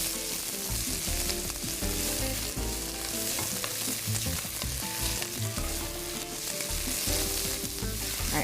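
Garlic sautéing in a pan for pasta e fagioli gives a steady, close, loud sizzle with frequent stirring clatter and small crackles throughout, and no voices.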